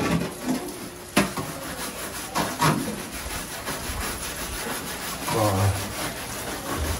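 A hand saw rasps back and forth through a hard, hollow calabash gourd in steady strokes, close and continuous with a few sharper knocks.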